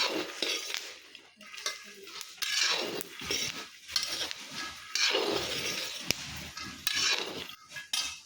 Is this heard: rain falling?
no